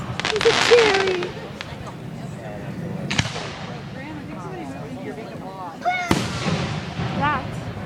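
Fourth of July fireworks crackle and boom outdoors, with a large burst followed by distant pops and sharp reports, while people talk and whoop in the crowd.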